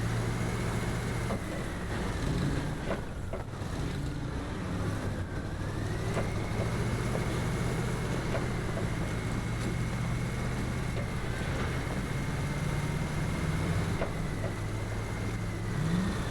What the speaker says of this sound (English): I love the engine sound.